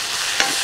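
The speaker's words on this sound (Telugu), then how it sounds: "ఇప్పుడు 6 చెంచాల పచ్చి కొబ్బరి పేస్ట్ కూడా వేసుకొని బాగా కలుపుకోవాలి." Fresh coconut paste frying in a pan as it is mixed in, a continuous sizzle with one quick scraping stir, close up and without speech.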